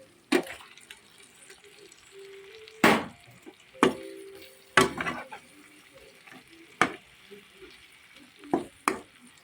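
Chicken gizzards frying in a pan with tomatoes, a soft steady sizzle under sharp clattering knocks and stirring scrapes of a utensil against the pan, spaced every second or two.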